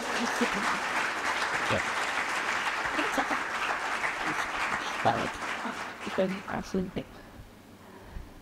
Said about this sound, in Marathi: एकदा सरांसाठी जोरदार टाळ्या होऊन जाऊ द्या